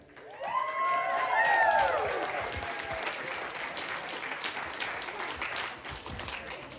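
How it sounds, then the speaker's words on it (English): A room full of wedding guests claps steadily for the best man, loud at first and slowly tapering, with a few whoops and voices mixed in near the start. "big round of applause for the best man"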